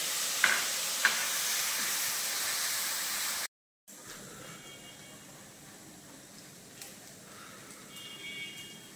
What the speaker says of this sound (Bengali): পেঁয়াজ বাটাটা আমরা ভালো করে লাল হতে দেব